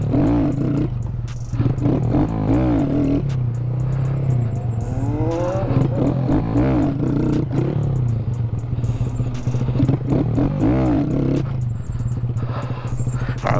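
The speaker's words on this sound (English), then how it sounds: "Let's see if I can pop some more wheelies" Honda Grom motorcycle engine drones loud and close throughout as the rider attempts wheelies, with rising revs and rhythmic surges over steady rumble.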